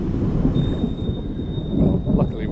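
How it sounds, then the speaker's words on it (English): Low rolling thunder rumbles on and off through a thunderstorm, heavy and close, with a faint steady high whine running over the top. "More rumbles of thunder."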